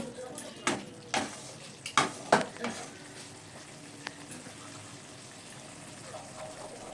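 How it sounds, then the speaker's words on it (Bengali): Green peas being stirred into a gravy of oil and spices sizzling in a pan, several sharp scraping stirs early on over a soft, steady sizzle that settles into quiet frying. "মটরশুঁটিটাকে নেড়ে চেড়ে নিয়ে মিশিয়ে নিচ্ছি"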